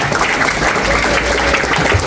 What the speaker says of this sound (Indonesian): Tepuk tangan dulu dong untuk HKS,